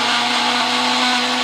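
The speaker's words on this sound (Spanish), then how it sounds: "Vamos a moler." A blender grinds food at full power, giving a loud, continuous whirring roar with a steady motor hum that holds without a break from start to finish.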